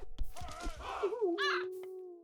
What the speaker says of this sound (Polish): Plus kruki? Po co mi one?